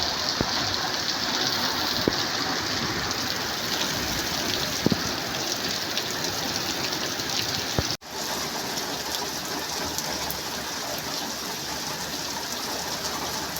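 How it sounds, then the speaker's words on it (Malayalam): Heavy summer rain pours down in a steady, dense roar, with a few brief clicks of drops striking nearby surfaces and a momentary dip near the end before the downpour resumes. "നല്ല മഴയായിരുന്നു കേട്ടോ. നല്ല തണുത്ത മഴ നിന്നങ്ങോട്ട് പെയ്തു."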